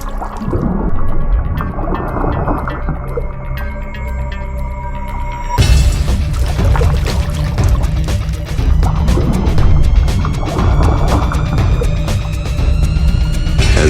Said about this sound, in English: a surge of water announces the caiman's arrival